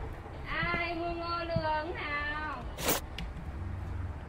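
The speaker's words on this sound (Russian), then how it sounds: "Кто-то сказал мяу." A cat meows twice in the horror video game The Death: Thần Trùng, two drawn-out, wavering cries close up, followed by a short burst of noise against a low ambient hum.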